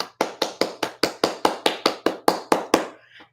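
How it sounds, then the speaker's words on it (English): A lone pair of hands claps slowly and steadily, about a dozen crisp, evenly spaced claps close up, then stops with a faint trailing noise. "So thanks a lot. Round of applause."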